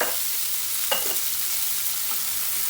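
Tomatoes with salt frying in a pan give a loud, continuous hiss of sizzling, broken by a couple of faint utensil touches.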